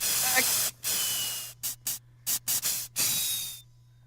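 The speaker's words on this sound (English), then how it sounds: "They ought to make these paint sprays with a weather vane on them." A paint sprayer hisses as it coats a tree, heard as a sound effect in a vintage radio comedy: a long steady spray, several short sharp bursts, then one more sustained hiss, all close and loud.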